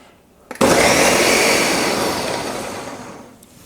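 A kitchen blender roars into action on gazpacho ingredients, a sudden loud motor whir that holds steady and then gradually winds down after a few seconds, with no voices over it.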